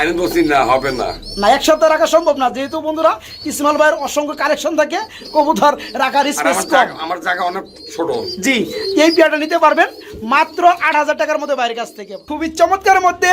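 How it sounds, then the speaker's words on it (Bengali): A pair of large-crop pouter pigeons coo nearby in repeated throaty bursts, mixed with someone talking over them. "এক জোড়া পুটার কবুতর রয়েছে"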